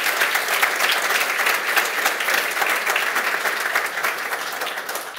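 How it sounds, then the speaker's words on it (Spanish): An audience applauds after a lecture on innovation, a steady, dense wash of many hands clapping continuously at full strength for several seconds before easing slightly at the end, with no talking over it. "con este fuerte aplauso que repitamos, por favor"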